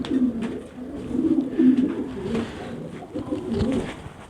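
A Zaghloul silver pigeon coos nearby in low, soft, rolling calls that repeat through a short span, with no voices over them.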